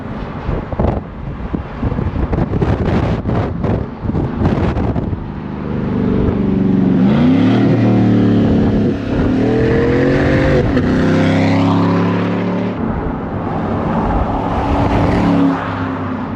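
A Chevrolet Silverado pickup's engine revs repeatedly, the loud nearby blips climbing and falling over several seconds, with wind noise on the microphone and some background bustle before and after.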